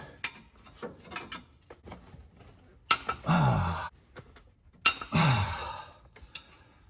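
Torque wrench tightening flexplate bolts on a 2006 Chevy Silverado, scattered metallic clicks and then two louder ratcheting, grinding pulls a couple of seconds apart, close by.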